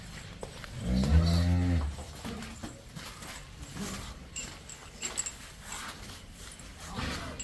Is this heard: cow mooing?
yes